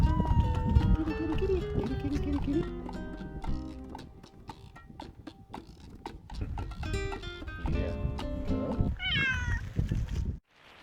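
Cats meow repeatedly on Lanzarote amid a busy mix of other sounds, the calls rising above a dense, cluttered background that cuts off abruptly at the end.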